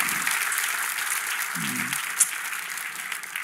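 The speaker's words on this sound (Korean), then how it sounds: "박수로" Congregation at an outdoor joint Sunday worship service in Gwanghwamun applauding to welcome a guest, a steady, somewhat distant patter of many hands with a short voice heard partway through.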